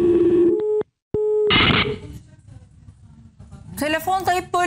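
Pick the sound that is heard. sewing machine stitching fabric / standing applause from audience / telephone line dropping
telephone line dropping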